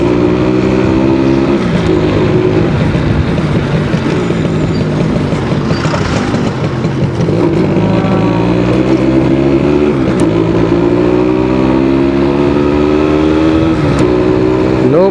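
A 100 cc Suzuki AX100 two-stroke motorcycle revs hard and loud, close by, with a raspy exhaust. The engine pitch rises and falls repeatedly, then climbs steadily toward the end.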